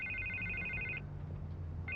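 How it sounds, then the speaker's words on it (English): A telephone rings in the Batman Telltale video game, a bright electronic trill lasting about a second, then a pause, then starting again, fairly quiet over a low hum. "I can't get the phone to stop ringing."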